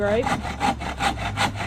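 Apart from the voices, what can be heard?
hand saw cutting lumber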